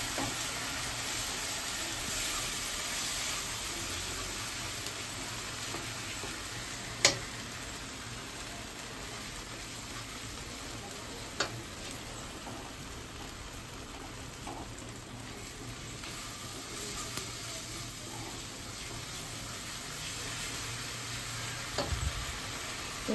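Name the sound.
pointed gourd korma cooking on low heat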